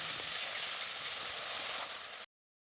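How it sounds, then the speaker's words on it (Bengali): Chopped tomato stir-fried in spices for a cauliflower, potato and fish curry, making a loud, continuous close-up sizzle that holds steady, then cuts off abruptly. "টমেটো কুচিটা দিয়েও ভালো করে নেড়েচেড়ে কষিয়ে নেব।"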